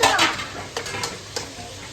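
Maggi noodles cooking in a covered pot in a home kitchen, heard as a steady close sizzling hiss with a few light clinks of metal pans, no voices.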